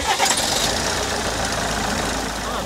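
A repaired engine on a broken-down overland travel vehicle, in a car park in Rio Gallegos, runs steadily and fairly loud throughout, a continuous rumbling drone with some faint voices underneath.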